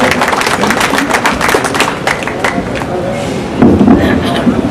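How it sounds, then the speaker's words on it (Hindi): A crowd at an Ayodhya Sant-Mahasabha gathering gives dense, steady applause to welcome a speaker. It thins out toward the end as a voice begins. "इनका जोरदार तालियों के साथ स्वागत"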